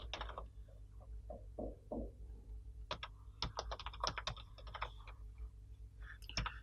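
Java code being typed on a computer keyboard: irregular bursts of close, crisp key clicks with brief pauses, heard alone in a quiet room.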